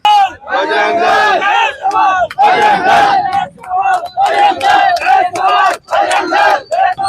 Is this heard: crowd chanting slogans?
yes